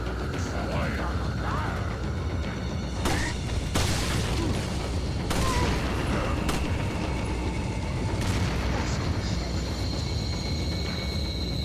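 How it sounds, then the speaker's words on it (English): Dynamite blowing up in Resident Evil 4, heard as several booming blasts and bursts of gunfire-like noise over a steady rumble of game sound, loud and close, with a voice talking now and then. "here's where you blow up the dynamite in front of this dude"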